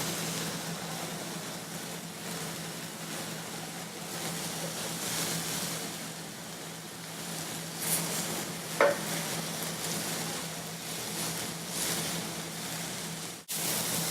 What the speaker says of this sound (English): as I flip them, they have a nice brown color to them, and they don't stick to the pan